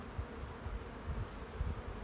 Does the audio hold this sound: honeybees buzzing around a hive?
yes